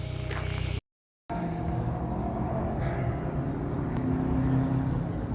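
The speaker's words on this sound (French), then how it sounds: "Les bagnoles, elles sont en train de passer à pleine balle comme ça là" Japanese cars roar past at full speed at the Montlhéry car event, a loud, continuous rush of engine and road noise that swells and fades as they pass, broken by a brief dropout near the start.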